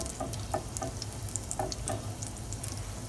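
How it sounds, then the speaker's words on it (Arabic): A small knob of butter melts into frying oil for Turkish shakshuka, a quiet steady sizzle with scattered crackles and light pops, fairly faint with no voices. "خلي الزبدة تذوب"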